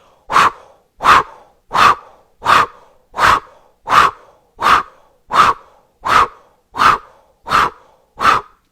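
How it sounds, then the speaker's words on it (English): Powerful open-mouth O breaths from a yoga breathing exercise repeat twelve times in a steady, even rhythm, each forceful exhale close and loud with short silences between. "And then the breath is the powerful O breath."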